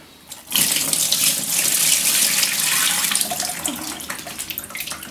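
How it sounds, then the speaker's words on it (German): Water runs from a tap into a tub used for melting and cleaning beeswax, starting abruptly after a brief pause and gushing loudly and steadily at close range, easing slightly toward the end. "Ansonsten müsst ihr das halt mit Wasser auffüllen"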